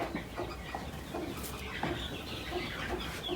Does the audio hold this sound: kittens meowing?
no